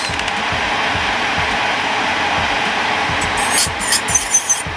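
A MelodySusie SM320G Limited Edition nail drill runs in reverse at low speed, giving a steady close whirr that ends in a few quick clicks and knocks.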